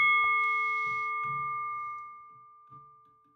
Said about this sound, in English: we do have a bell. So let's just hear the sound of the bell.